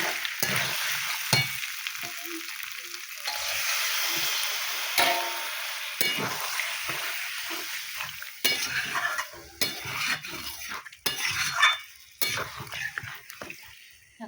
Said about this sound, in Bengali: চিকেনটা খুব সুন্দর করে কষা হয়ে গেছে এবার এটা দিয়ে দেবো জল